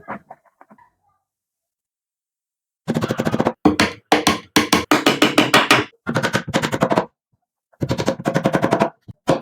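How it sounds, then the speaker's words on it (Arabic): Nails are hammered into the top front piece of a homemade wooden computer desk: loud bursts of rapid, closely spaced strikes separated by short pauses, with no talking. "تعتبر صدر المكتب، هنسمرها فوق."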